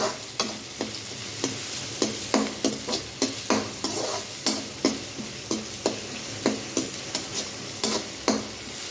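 Capsicum and beans stir-fry in a pan, a steady sizzle broken by regular, close scraping strokes of a spatula, roughly one or two per second.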